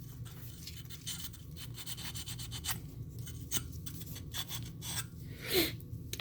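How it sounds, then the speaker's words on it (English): Sandpaper rubbed by hand over the electrodes of an oil furnace during basic maintenance, a soft, close scratchy rasping in short irregular strokes over a low background hum, with no talk. "get yourself a piece of sandpaper, clean these electrodes up"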